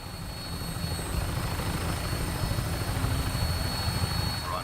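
Steady engine drone of a Vertibird aircraft in flight in the Fallout 4 video game, a continuous loud rotor-and-engine rumble with a constant high whine, holding level throughout with no talk.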